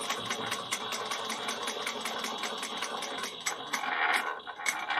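A sewing machine top stitches a fabric bag in a steady, fast run of rhythmic needle clatter, close and continuous, with a slight shift in pitch and loudness near the end.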